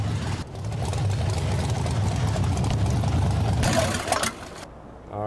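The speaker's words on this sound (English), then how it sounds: "Don't want to cut the engine off of this loud Bronco." A loud Ford Bronco truck engine idles in the MudRunner off-road video game, a deep steady rumble that runs on, then cuts down sharply near the end.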